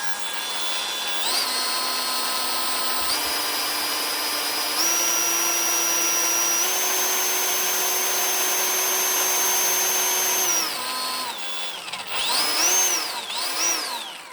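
A cordless DeWalt 54V XR FlexVolt split-boom power head motor whines close up, stepping up in distinct speed stages like gear shifts, then winding down and revving briefly at the end, with no talking.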